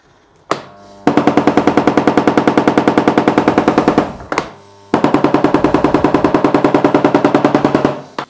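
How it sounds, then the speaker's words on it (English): A wall chaser's dust extractor cleaning its filters, firing two long bursts of rapid, loud mechanical bangs like a machine gun, each run lasting about three seconds with a short pause between. "when the filters are getting clogged because of all the dust, it bangs the filters out."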